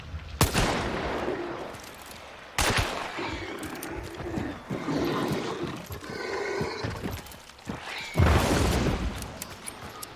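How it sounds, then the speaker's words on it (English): Gunfire in a video game, several sharp loud shots at irregular intervals with booming tails and rumbling between them. "This spawn hit again, so I'm going to walk over here and shoot him."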